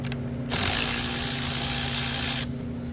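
A 10 mm wrench or ratchet loosens the terminal nut on a 2013 Hyundai Sonata 2.4L car battery: one steady, close mechanical whirr of about two seconds over a low background hum.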